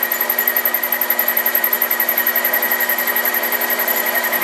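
A SIEG 7x14 mini lathe runs with its half nut engaged, taking a light cut: a steady, near motor whine with a fast, even pulsing rhythm and a high gear tone, with no talking.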